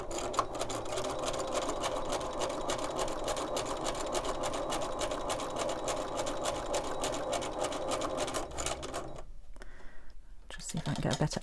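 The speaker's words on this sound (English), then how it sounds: "So let's just start stitching, see what happens." A sewing machine stitches fabric in a steady, fast mechanical chatter that runs loud and unbroken for most of the stretch, stops abruptly for a brief pause, then starts again.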